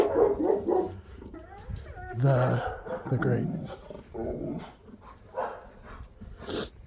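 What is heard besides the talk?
dog barking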